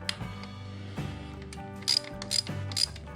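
A 17 mm socket on a ratchet wrench working on a Honda Fury motorcycle during an oil and filter change: close, crisp ratcheting clicks in short bursts, with a few sharper metallic clinks between strokes.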